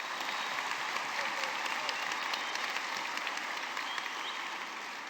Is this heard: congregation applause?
yes